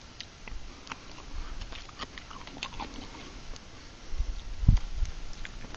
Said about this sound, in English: I don't know if you could hear that crunch